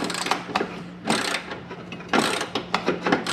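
Ratchet clicking in quick bursts while removing the upper control arm nut on a Mercedes, several close, brisk runs of ratcheting separated by short pauses.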